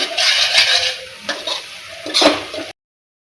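Ginger, garlic and chili paste roasting in a pan while being stirred, a crackling sizzle punctuated by a few spatula scrapes against the pan, close and fairly loud before cutting off.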